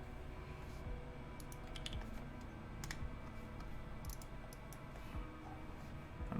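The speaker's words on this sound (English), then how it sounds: "Then do a little bit of typing." Typing on a Perry60 v2 mechanical keyboard with a PLA plate gives a close run of crisp, clacky keystrokes in uneven bursts, with a few louder clustered presses over a faint steady background.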